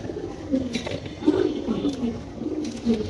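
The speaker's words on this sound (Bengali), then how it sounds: "সজীবের কবুতর একটা ডিম পাচ্ছে" Pigeons coo softly in low repeated rumbling calls while a pigeon lays an egg, with some background noise and faint talk nearby.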